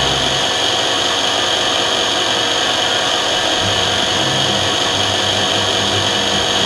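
A lens drilling machine's milling cutter whirs at a constant high pitch, a steady loud grinding drone with a faint low rumble underneath, no talking.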